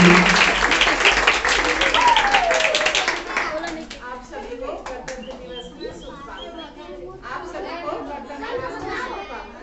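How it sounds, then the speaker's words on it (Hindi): Clapping from an audience at a school Republic Day function, loudest in the first few seconds, then thinning into scattered claps with chatter and children's voices. "जोरदार तालियों से स्वागत करेंगे।"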